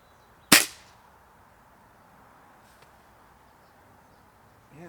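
A single sharp crack from a BSA Lightning CLX air rifle, close and loud, then near silence with faint rustling.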